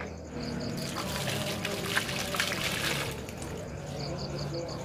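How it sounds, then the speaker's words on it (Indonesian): Water is poured over freshly planted seedlings, a quiet trickling splash that swells in the middle and then eases off, with faint insect chirps in the background. "Kita akan siram"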